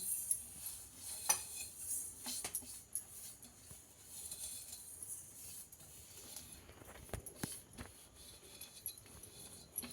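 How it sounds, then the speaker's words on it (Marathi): A utensil scrapes and clinks lightly against a pan as vermicelli is stirred and roasted, faint irregular taps and rustles with no talk. "शेवया अशा छानपैकी भाजून घेणार"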